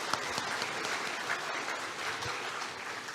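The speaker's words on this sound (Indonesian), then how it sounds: "Boleh tepuk tangan dulu untuk Anda semua." Steady applause from a large audience of new diploma students at a polytechnic campus academic address, dense continuous clapping throughout with no break.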